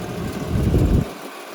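A 2008 Porsche 911 with a valved titanium exhaust idles with a low, rumbling burble that swells briefly, then drops away abruptly into near quiet.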